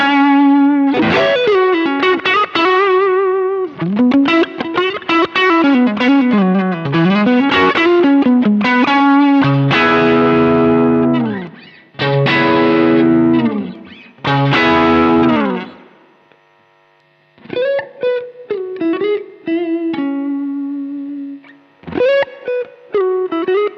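Electric guitar played through a DSM & Humboldt Simplifier Deluxe amp pedal gives a driven, slightly chorused tone; melodic phrases and sustained chords ring close and clear, broken by short pauses, with nobody talking.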